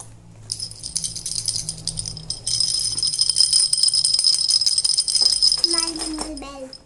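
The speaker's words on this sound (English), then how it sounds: "Small jingle bell." A small jingle bell rattles and tinkles continuously for several seconds, with a voice briefly audible near the end.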